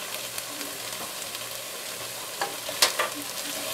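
Chicken pot pie filling with rosemary, thyme and parsley stirred in a frying pan, giving a constant soft sizzle with occasional spoon scrapes and one sharper clink near the end, and no talking.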